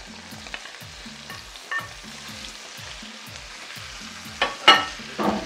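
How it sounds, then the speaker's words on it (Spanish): Vegetables with tomato sauce, onion and pepper sautéing in a pan, giving a continuous soft sizzle with a few louder stirring clatters near the end, under a steady low rhythmic background hum. "Lo vamos a saltear muy bien hasta que se mareen un poco, no mucho, para que no pierdan su colorido"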